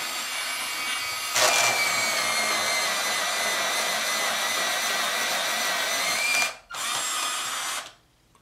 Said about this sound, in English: even your charcoal pencils get a really nice tip without breaking using this sharpener